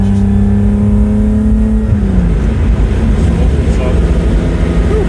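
A loud V12 four-cam engine of a Ferrari 365 GTC/4 rumbles close by, its pitch climbing past 4,000 RPM and then breaking into a rough, throaty roar as the revs build.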